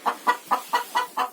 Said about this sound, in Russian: Вот курочка несется.